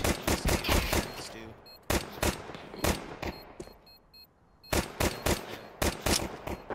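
Rapid bursts of automatic gunfire in Counter-Strike 2, loud and close, firing in several clusters with short gaps of quieter game ambience between them.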